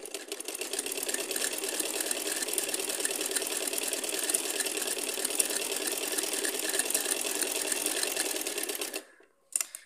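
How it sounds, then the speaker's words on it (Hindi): A sewing machine stitches a seam in a fast, even, continuous clatter that runs steadily for about nine seconds, then stops, followed by a brief click, close and moderately loud with no talking. "एक दूसरी साइड पे हम दूसरी सिलाई भी लगा लेंगे"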